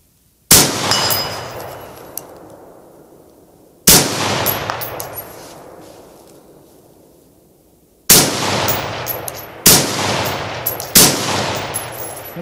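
Four sharp rifle shots fired at a target, each a loud crack followed by a long decaying echo, spaced a few seconds apart with the last three closer together.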